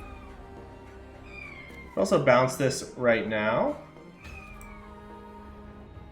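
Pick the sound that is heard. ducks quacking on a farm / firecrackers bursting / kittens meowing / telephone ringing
kittens meowing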